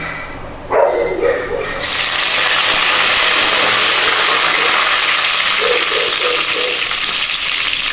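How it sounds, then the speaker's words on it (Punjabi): Curry leaves, cumin and fenugreek seeds hit hot oil for a Punjabi kadhi pakora tempering, bursting into a loud, steady sizzle that holds for several seconds, with a brief sharp crackle at the start and faint background noises. "ਤੇਲ ਗਰਮ ਹੋ ਗਿਆ ਚੰਗੀ ਤਰ੍ਹਾਂ ਤੇ ਆਪਾਂ ਹੁਣ ਪਾ ਦਾਂਗੇ ਪਹਿਲਾਂ ਕੜੀ ਪੱਤਾ ਤੇ ਜੀਰਾ"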